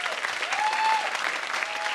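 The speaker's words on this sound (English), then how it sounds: "as she goes, you can clap again." Audience clapping at a public talk event, a steady dense wash of many hands applauding continuously for two seconds at moderate loudness.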